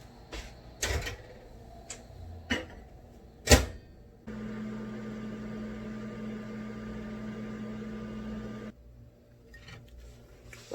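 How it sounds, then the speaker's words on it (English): A few clicks and clunks, then a microwave oven hums steadily for about four seconds before shutting off, with quiet clatter afterward. "I'm going to put this in the microwave for 2 minutes"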